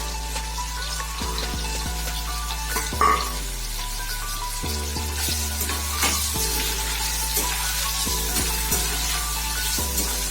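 Tomatoes sautéing in a pan while cooking Tamil sundakkai kulambu, a steady close sizzle and fry with occasional stirring scrapes and clinks, no talk.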